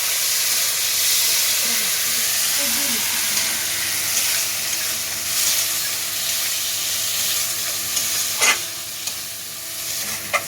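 Egg chilli masala with tomato sauce sizzling in a pan as it is stirred, a loud continuous frying hiss with occasional scrapes and a sharper clatter near the end.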